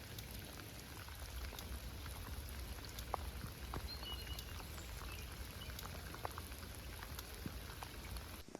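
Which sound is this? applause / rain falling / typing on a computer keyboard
rain falling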